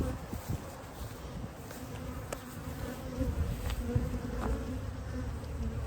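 Steady, dense buzzing of many honeybees close by at a hive, nurse bees and foragers, a continuous droning hum with no talking.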